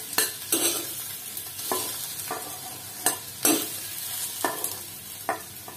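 Round gourd (tinde) frying in oil in a kadhai, with a steady close sizzle broken by periodic scraping stirs of a spoon against the metal, and no voices.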